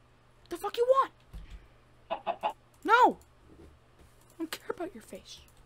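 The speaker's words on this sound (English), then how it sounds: "Chicken." A Minecraft chicken clucks in several short bursts with pauses between them, close and fairly loud over a low steady background hum.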